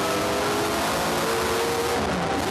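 Holden VL Commodore touring car built by TWR racing at the 2007 Australian Muscle Car Masters, its engine roaring steadily under power with a continuous loud drone and no talk.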